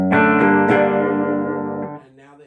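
A clean electric guitar chord from a Les Paul is struck a few times and rings out through a Fender Deluxe Reverb amp, fading over a couple of seconds.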